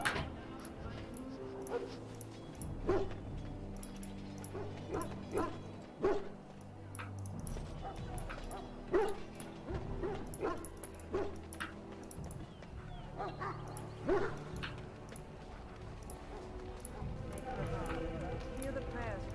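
In Dragon Age: Origins, a dog gives repeated sharp barks and yips at irregular intervals over game music and ambience, with clopping footsteps and voices speaking around it.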